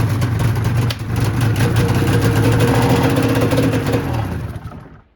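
Engine of a 2001 Polaris XC SP 600 snowmobile, fresh from a top-end rebuild, running loud and close with a fluctuating, surging tone and a slight dip near the start, then dying away to silence at the end.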